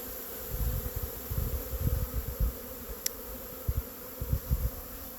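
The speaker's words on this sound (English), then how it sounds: "the bees are bringing in a whole bunch of pollen" Honey bees bringing in pollen buzz steadily nearby in mid-February, a low droning hum that swells and fades as individual bees pass close.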